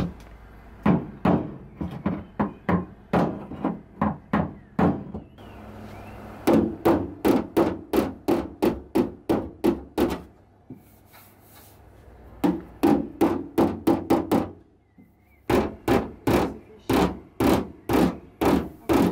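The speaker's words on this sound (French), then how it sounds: "Voici une technique de martelage qui permet de répartir la nervosité de l'acier" Hammer repeatedly striking the steel body panel of a Honda Prelude VTi during restoration, loud close metallic blows in fast steady runs separated by brief pauses.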